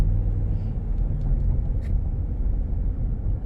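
A Ram 1500 Big Horn Lone Star pickup truck is driven on a road, giving a steady, close low rumble of engine and tyres with no voices.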